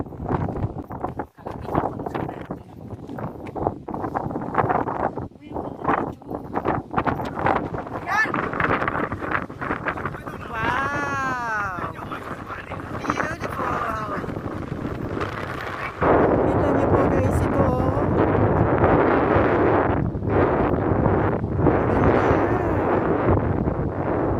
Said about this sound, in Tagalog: Pero sobrang hangin.